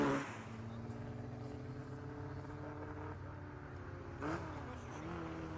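A modern Ferrari 488 runs a hill climb among exceptional cars, its engine a steady sustained drone at moderate distance, rising in pitch briefly near the end.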